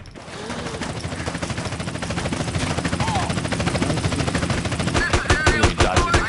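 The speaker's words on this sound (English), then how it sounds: "And now they're gonna shoot at me." Sustained machine-gun fire aimed at the player in GTA San Andreas, rapid bursts layered over a helicopter-like engine drone and game noise, growing louder and sharper toward the end.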